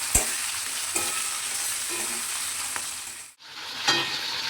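Garlic chicken gravy seasoned with salt and a pinch of sugar fries in a pan, a continuous close sizzle broken by a few spoon scrapes and knocks, with a brief dip in sound just past the middle.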